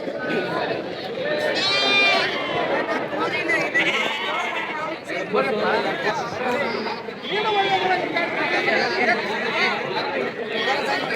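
Many lambs bleat repeatedly at a crowded sheep market, high wavering cries overlapping throughout, under constant loud chatter and voices of people talking close by.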